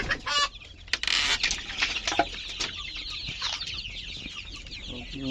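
Chickens cluck and squawk nearby in a coop, with several birds calling in irregular bursts over a steady background hiss.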